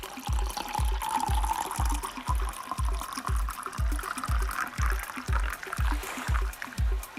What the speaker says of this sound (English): what a pour. What a perfect pour.